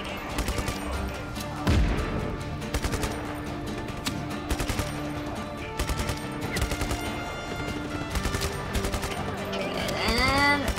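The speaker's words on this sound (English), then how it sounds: "Fight, gunfire, lots and lots of gunfire." Gunfire in the video game Just Cause 3 comes as repeated bursts of automatic shots and single cracks over a running game soundtrack, with occasional heavier impacts and whooshing effects.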